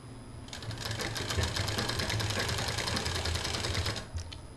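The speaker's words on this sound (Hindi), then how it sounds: "और 4 इंच पर इसको हम सिल देंगे।" A sewing machine stitches a fabric patch for a traditional bandanwar door hanging, running as a rapid, even whir of needle strokes for about three and a half seconds before stopping.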